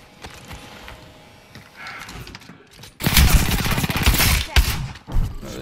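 Shotgun blasts and gunfire in a squad-based shooter video game, with quieter mechanical clicks first, then a loud burst of repeated booming shots and a final blast near the end, no speech.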